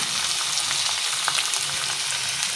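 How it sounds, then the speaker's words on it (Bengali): Mutton coated in salt, turmeric, cumin paste, ginger paste and chilli paste sautés in a pan, a loud continuous sizzle with soft scraping of stirring, close by and without talk. "সুন্দর করে কষাতে থাকবো ঢেকে ঢেকে কষাতে কষাবো"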